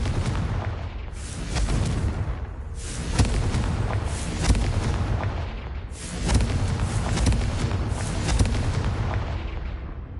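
Confringo spell explosions in the Hogwarts Legacy video game, loud booming blasts with rumbling decay, several in succession forming a dense, continuous barrage.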